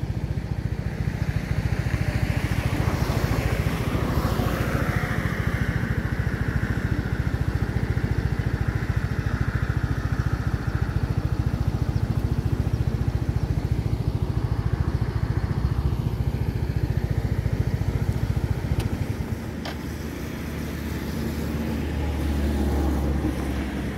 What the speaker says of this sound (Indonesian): Nah ini teman-teman, kita lihat kendaraan yang dari arah Kayu Tanam ya.